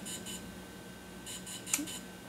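Several short electronic beeps in bursts from a DJI Phantom 3 drone during a firmware upgrade, over a quiet steady hum, with a sharper chirp near the end.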